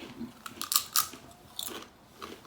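Crisp bites and crunching on ridge-cut sour cream and onion crisps, a few sharp crunchy bursts close to the mouth followed by softer chewing, quiet and without talk.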